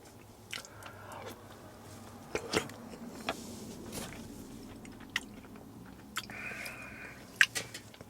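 Someone eats during a car camping trip, with close, crunchy bites and chewing. Irregular loud crunches stand out over a quiet background, and there is no speech.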